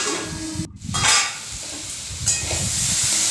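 Capsicum and cabbage frying in a pan for vegetarian Navaratna pulao, a steady close sizzle with a short louder burst of stirring near the start and continuous hiss throughout.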